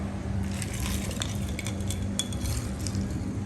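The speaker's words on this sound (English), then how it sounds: "We're gonna give it a little stir." Vodka cocktail with club soda stirred in a glass, a light continuous fizzing hiss with faint clinks of a spoon scattered throughout, close and steady with no voices.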